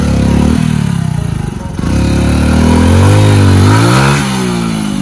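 A motorcycle engine revs hard on an off-road trail, loud and close, its pitch climbing and falling through several surges with a brief dip before building again.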